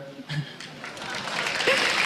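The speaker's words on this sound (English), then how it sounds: "Another applause for Alexej and Gambit, guys" Audience applause swells at an LCS 2013 EU Summer esports event, a dense wash of clapping that grows louder toward the end, with a voice heard near the start.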